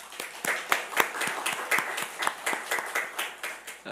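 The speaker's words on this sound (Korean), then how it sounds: "우리 부모님께 우리 학생들이 감사의 박수 드리겠습니다" Students at a Sunday church service clap together in thanks to their parents, a steady stream of fairly close claps with no voices over it.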